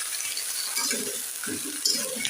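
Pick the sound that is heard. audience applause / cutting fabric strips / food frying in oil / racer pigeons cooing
food frying in oil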